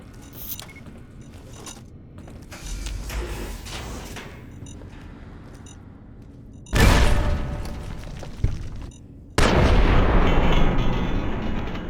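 Bunker explosions in the video game Fallout: New Vegas: low rumbling and scattered bangs build before two sudden, loud blasts that roar on with heavy crackling debris.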